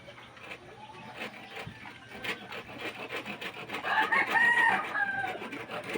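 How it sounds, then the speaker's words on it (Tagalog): Chickens cluck and a rooster crows out in the open, the crow swelling loudest near the end over a steady background of clucking and scratching. "yung mga alaga namin mga manok yan"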